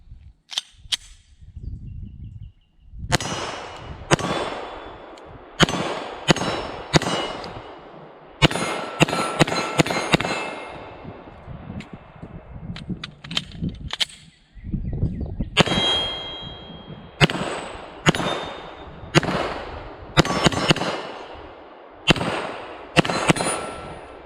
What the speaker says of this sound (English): Let's go ring a bunch of steel